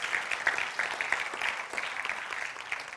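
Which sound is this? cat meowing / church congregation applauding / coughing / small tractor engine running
church congregation applauding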